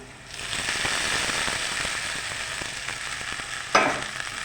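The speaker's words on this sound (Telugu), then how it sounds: "ఇప్పుడు వేయించుకున్న బెండకాయలు వేసుకుందాం" Fried okra tipped into a pan of sizzling fried aromatics sets off a steady, fairly loud frying hiss with a brief sharp clatter near the end.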